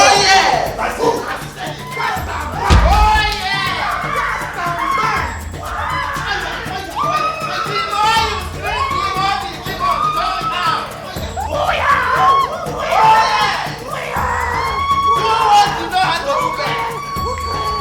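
A church congregation screams and shouts together during a loud deliverance session. Many voices yell and cry out continuously at close range.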